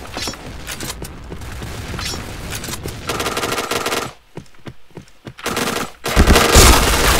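Rapid gunfire from the shooter game Point Blank, with close, loud bursts of shots, a brief pause with a few isolated reports, then another heavy burst at the end, and no talk.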